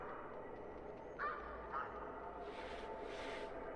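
Geese honk faintly a couple of times in theHunter Classic, distant calls sitting over a steady low ambient wash of the hunting game's outdoor soundscape.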